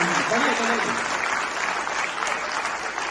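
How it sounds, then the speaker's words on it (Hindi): Audience applause at a university poetry recital (kavi sammelan), a dense wash of many hands clapping throughout, with a brief voice over it at the start. "जरा तालियां कमजोर है आपकी, तालियां तो निकलवा लेंगे"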